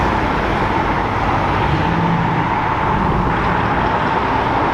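Classic Maserati car driving off from Brooklands, a dense engine roar up close, steady and loud throughout with no talk over it.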